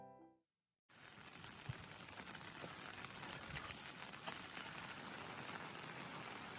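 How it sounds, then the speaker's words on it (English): Steady early-morning rain falls in Karsa village in Nepal's Ruby Valley, a dense, even patter with scattered drops that holds constant after a brief silent gap at the start. "the rain added a soothing rhythm to the start of our day"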